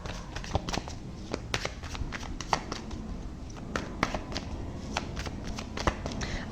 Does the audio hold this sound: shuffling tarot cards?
yes